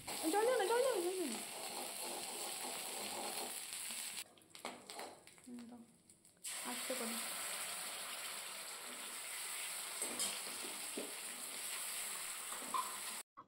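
Ginger and spices being stirred in a frying pan at home, giving a steady close sizzle with scraping, broken by a few seconds of quieter near-silence midway before the frying noise returns.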